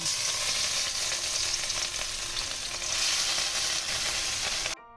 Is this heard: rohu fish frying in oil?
yes